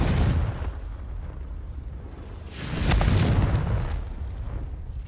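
Confringo spell explosions in Hogwarts Legacy: two loud, rumbling blasts about two and a half seconds apart, each a broad burst that fades into a low roar, with no voices.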